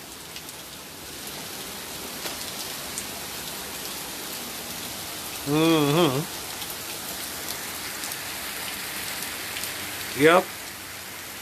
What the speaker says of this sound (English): This is some rain, you know.